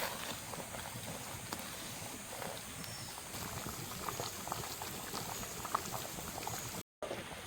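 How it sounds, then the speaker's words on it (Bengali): Mung dal cooks on high heat in a steady, dense bubbling boil, with close, continuous popping and gurgling and a brief dropout near the end. "এই যে আমার এরকম ফোঁট উঠতেছে, এরকম যেন ভালো ফোঁট ওঠে"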